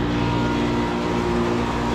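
Two Trane scroll chillers run outdoors with a steady, loud mechanical drone and tonal hum that holds constant throughout, with no voices.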